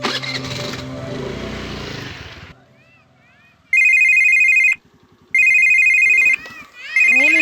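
A phone ringtone sounds in loud repeated electronic bursts, three rings separated by short gaps, after a stretch of engine-like rumble and quieter background sounds.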